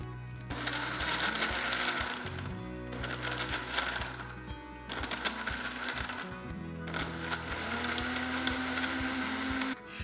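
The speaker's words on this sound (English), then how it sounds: "Cover your blender. Don't forget that part or you will have a mess. And blend it until it's smooth." A blender whirs through fruit, yogurt, juice and ice cubes in bursts, its motor revving loudly with grinding crunches between short pauses, and no talking.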